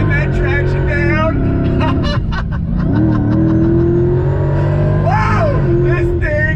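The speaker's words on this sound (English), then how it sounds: "another acceleration from a dead stop on throttle" A custom Dodge Challenger Hellcat Redeye launches from a dead stop, its supercharged engine roaring loud and close as revs climb through several gear changes, with a voice briefly over the din.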